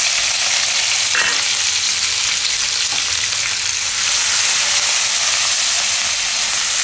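Curry leaves, asafoetida, ginger and green chilies sizzle in hot oil in a pan, a loud, steady frying hiss with a couple of faint clicks from stirring and no talk over it.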